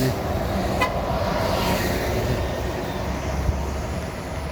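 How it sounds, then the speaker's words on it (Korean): Buses roll past on both sides of a road, with a steady broadband roar of passing traffic close by, a short horn-like toot early on, and constant road noise throughout. "양쪽으로 버스가 오네"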